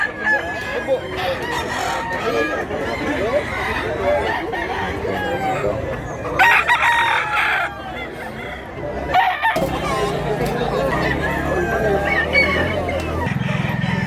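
A rooster with white legs, a bird offered for sale, crows among loud outdoor background noise, with people talking nearby.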